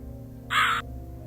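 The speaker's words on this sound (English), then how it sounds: "Mr. Crow is really loud" A single loud, harsh caw from a crow in the Rusty Lake Hotel game cuts in briefly over a quiet low hum, close and sudden.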